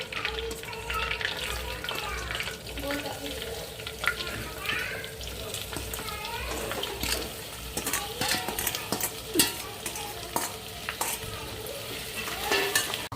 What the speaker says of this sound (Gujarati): હવે અમે એની અંદર ડુંગળી નાખીશું.